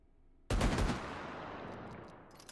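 A revolver-style gun in Hotdogs Horseshoes & Hand Grenades fires a quick burst of rapid shots that blur into one loud, sharp blast, followed by a long fading echo tail.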